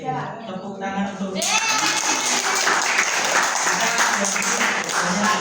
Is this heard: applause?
yes